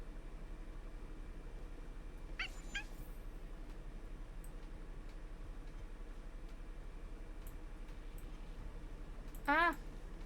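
A small pet cat in the video game Honkai: Star Rail gives two short, faint meows aboard a space station, one early and one near the end, over a steady low electronic hum.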